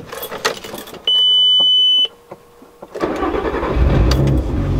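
A Volkswagen R32 engine is started: there is a steady electronic chime and jangling keys, then a brief crank, and the engine catches into a loud, rough idle.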